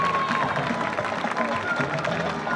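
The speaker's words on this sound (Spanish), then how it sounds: "Fuerte el aplauso para nuestra reina y sus princesas" Steady applause from a crowd honoring the town's newly elected beauty queen and her princesses at the Sociedad Rural de Trenque Lauquen, a dense, continuous patter of clapping with murmuring voices mixed in throughout.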